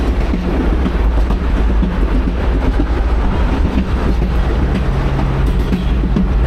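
Reading & Northern #2102 excursion train rolling along the rails, heard from on board as a loud, continuous low rumble with steady wheel and carriage noise.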